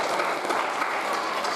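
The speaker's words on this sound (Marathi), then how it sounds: "सगळ्या मुलांच्यासाठी टाळ्या." Applause from an audience for young pupils at a pre-primary English school's annual gathering, a steady dense clapping that holds loud and even from start to finish with no pauses.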